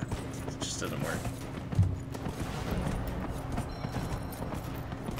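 A horse gallops through woods in the video game Dragon Age: Inquisition, its rapid hoofbeats running steadily under loud music and someone talking throughout.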